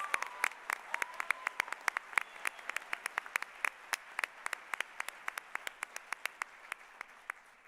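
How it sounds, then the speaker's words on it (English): A banquet audience at the annual Spokane Scholars Foundation gala applauds, the scattered claps sounding sharp but fairly distant and quiet, spreading through the hall for several seconds with no talking. "let's give them another round of applause."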